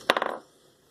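A laptop screen bezel's plastic tabs on a Toshiba Satellite L55-C5272 pop loose as a credit card pries the frame: a quick, close burst of four or five sharp clicks, then quiet.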